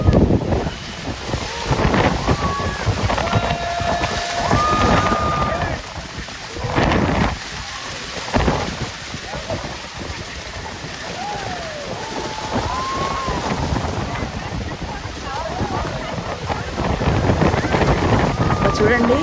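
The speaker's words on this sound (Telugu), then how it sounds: "అసలు వాటర్ ఫుల్ పడుతుందండి" Niagara Falls thunders down in a broad, steady roar of water and spray, heard from close in among the falls. Gusty wind buffets the microphone and people talk over it.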